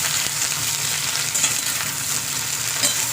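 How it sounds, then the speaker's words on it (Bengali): Cauliflower pieces fry in a little oil in a kadai, giving a steady, even close-up sizzle with faint stirring touches and no voices. "এটাকে ভালো করে ভাজা ভাজা করে নিতে হবে"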